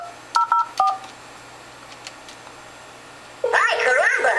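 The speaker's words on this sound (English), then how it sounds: "he's going to test the Cisco hardphones to prove that they will dial each other" A Cisco desk phone sounds a few short, clear dialing tone beeps in quick succession, followed by a quieter pause, then a person starts talking.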